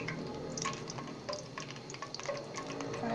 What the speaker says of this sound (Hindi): अभी हमारी इलायची भी फ्राई हो गई है